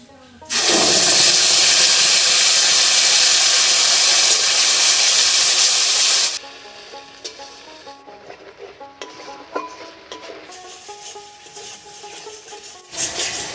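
Tomato, green chili and ginger paste hitting hot oil over whole cardamom, cinnamon and cumin seasoning, a loud close burst of sizzling for several seconds, then quieter crackling and stirring clatter.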